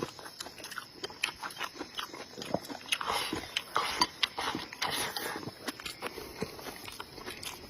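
Close eating and chewing during a mukbang meal of rice with fermented tofu, meat, chicken and shrimp: soft repeated bites, crunches and mouth sounds in an irregular rhythm, fairly quiet and with no talk.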